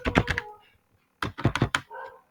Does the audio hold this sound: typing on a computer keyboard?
yes